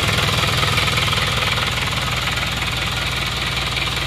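An Isuzu Panther 2.3 diesel engine runs steadily after repair, a loud, close, rapid rhythmic clatter with a deep, even throb and no talk.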